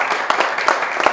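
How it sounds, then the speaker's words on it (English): Brief applause from a neighborhood association membership meeting, a short patter of clapping from a modest crowd with a few distinct louder claps. "So, I think all of us owe a round of applause to Jill for her leadership on the Parks Comm"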